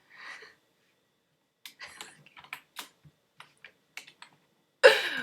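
Scattered keystrokes tapped on a computer keyboard, a short burst of sparse clicks near and fairly quiet against silence, followed by a louder rustling burst at the end.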